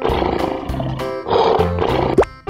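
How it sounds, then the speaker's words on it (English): A lion gives a loud, close, rough roar in several surging bursts, ending in a sharp rising cry. "Lion."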